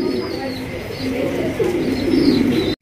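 Iceberg Damascene pigeons coo close by in rolling, throaty calls that swell toward the end before cutting off abruptly.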